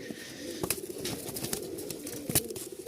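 Pigeons coo softly in a loft of fancy breeding birds, low repeated throaty calls, faint and close, with occasional sharp rustles and taps.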